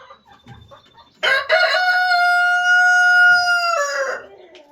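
A rooster crows once, a long, loud, sustained cock-a-doodle-doo close by, with faint clucking and rustling before and after.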